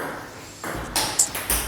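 A table tennis ball is struck during a friendly ping pong match, giving a quick run of three or four light, bright taps close together over ambient room noise.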